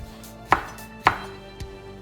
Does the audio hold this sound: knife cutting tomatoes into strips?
yes